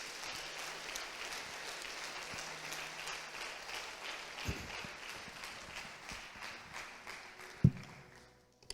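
A church congregation applauds together in a steady, fairly soft patter that builds slightly, with a few louder knocks near the end as it tapers off.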